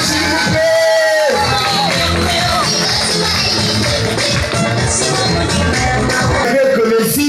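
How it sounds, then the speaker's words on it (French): Lively crowd at a school event cheering, whooping and shouting for the children, loud and close, with voices calling out over continuous clapping. "On applaudit pour nos enfants, s'il vous plaît."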